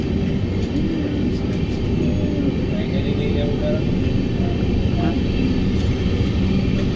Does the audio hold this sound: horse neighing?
no